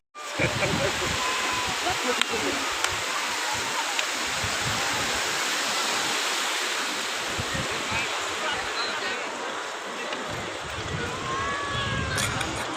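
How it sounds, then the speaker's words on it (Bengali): Continuous rushing water and breezy noise fill the air at Kuakata beach, with faint voices and crowd murmur mixed underneath. "চারিদিকে পানির শব্দ শুনশান শুনশান বাতাসের শব্দ মানুষের কোলাহল"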